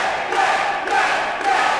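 Wrestling event crowd at a Rob Sharpe match, a steady roar of cheering and shouting filling the arena with small surges, no commentary over it.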